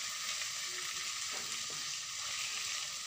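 Eggs and onion frying in a pan while being stirred, a steady close sizzle with a couple of brief scraping stirs partway through.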